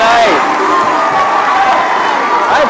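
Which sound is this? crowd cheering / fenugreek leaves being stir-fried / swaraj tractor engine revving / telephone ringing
crowd cheering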